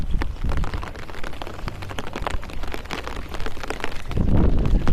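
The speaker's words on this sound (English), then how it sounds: "As you can see, it is raining." Rain falling on a walk outdoors, a steady close hiss of drops with heavier patter near the end, likely striking an umbrella overhead.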